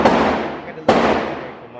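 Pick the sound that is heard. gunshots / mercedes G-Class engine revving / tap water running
gunshots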